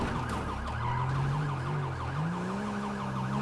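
A police car siren in GTA V wails continuously and loudly, its pitch sweeping up and down with a faster yelping pattern layered over it.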